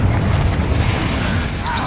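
A Confringo explosion spell in Hogwarts Legacy gives a deep, rumbling boom that carries through the short stretch, with a voice talking over it.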